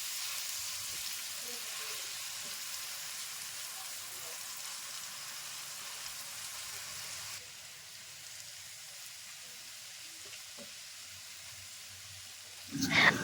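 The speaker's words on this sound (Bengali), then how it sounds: "পেঁয়াজটিকে প্রায় ব্রাউন করেই ভেজে নিতে হবে।" Chopped onion frying toward brown in a pan for Bengali prawn malai curry gives a soft, continuous sizzle that drops slightly midway, then swells into a louder burst at the very end.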